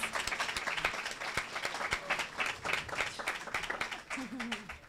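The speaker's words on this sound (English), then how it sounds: "can we please give a round of applause to our amazing, amazing panelists?" Audience applause for a panel of speakers closing a session, many hands clapping at a moderate, fairly close level with irregular sharp claps throughout, and a brief voice near the end.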